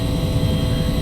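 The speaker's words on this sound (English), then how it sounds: "now the aircraft is running" A UH-1 helicopter's turbine engine runs in a flight simulator game, a constant droning whine with a low rumble, steady and loud for about a second.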